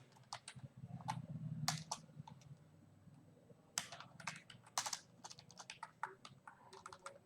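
Rapid, irregular clicking of computer keyboard keys while entering C code, close and dry, in quick bursts with short pauses, alone without talk.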